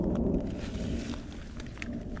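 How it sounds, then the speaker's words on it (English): Rain falls during a thunderstorm in the Colorado mountains on an elk archery hunt, a steady rushing patter under a low rumbling bed, with a few sharper drop impacts near the end. "The rain's significantly lighter right now"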